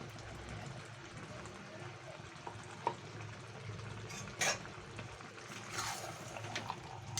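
Cashew, dry chilli and tomato paste is stirred in a pan for a restaurant-style chicken gravy, soft scraping and a faint sizzle with a few light clinks of the utensil against the pan, quiet and close.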